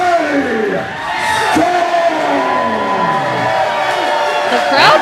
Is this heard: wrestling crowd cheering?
yes